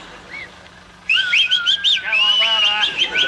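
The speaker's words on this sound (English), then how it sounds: "Let's hear a bit of whistling." Several people whistle together in bright, warbling bursts that rise and fall, loud and close after a quiet start.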